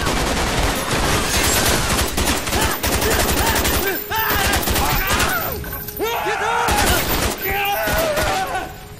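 Heavy battlefield gunfire in Call of Duty Black Ops during a Vietnam War mission: loud, continuous automatic bursts with breaking glass and thuds, mixed with shouted voices and tonal game sound effects throughout.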